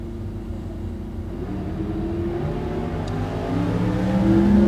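At a bracket drag race, a Fastback Mustang and another car rumble and rev, their engine drone swelling louder toward the end, heard from a distance with no talk.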